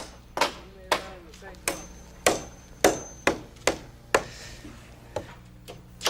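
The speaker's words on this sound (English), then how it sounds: "when you're nailing off the top end to the rafter" A hammer drives nails through gable studs into a roof rafter while framing a house roof, with about a dozen sharp, loud, evenly spaced blows ringing one after another, close by and with no talking.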